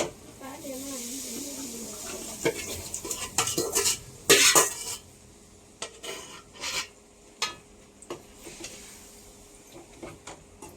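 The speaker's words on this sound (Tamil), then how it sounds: "நல்லா மிக்ஸ் பண்ணிக்கலாம்" A spoon scrapes and clinks against a pan as chicken is mixed with spices, in irregular bursts of stirring that grow busier midway, with a voice talking near the start.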